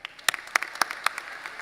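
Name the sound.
applause at graduation ceremony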